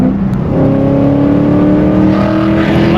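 A car engine roars loudly up close, its pitch climbing steadily as it accelerates, with road and wind noise underneath.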